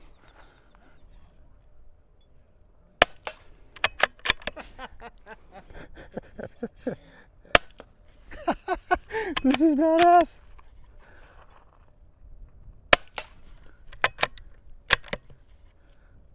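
A .22 rifle fitted with an OSS Rad 22 suppressor fires several muffled, sharp clicks spaced a few seconds apart, quiet and close, with people talking between the shots.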